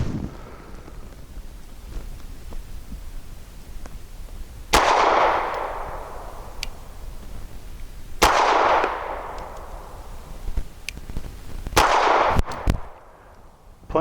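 Three sharp pistol shots from a Bersa TPR9 firing aluminum-cased ammunition at an outdoor range, spaced several seconds apart, each a loud crack with a decaying echo over steady wind noise.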